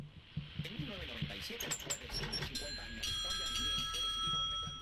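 A doorbell rings in the Hello Neighbor video game, bright tones chiming among game noise and a rising hiss while a player talks over it.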